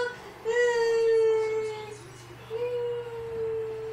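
A young child sitting by a doorway cries in two drawn-out, wavering wails, fairly close, the second one shorter, with a faint steady hum behind.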